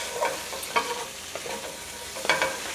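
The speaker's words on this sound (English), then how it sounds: "We'll give this a stir." Garlic and mushrooms frying in a pan while being stirred, soft sizzling with a few scraping stir strokes, close and fairly quiet, no voices.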